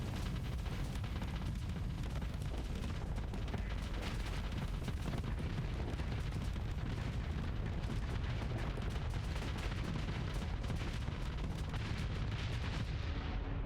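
Spaceship weapons firing in the space combat game Starsector: a dense, continuous barrage of rumbling booms and blasts, fairly quiet and unbroken throughout, with no talking.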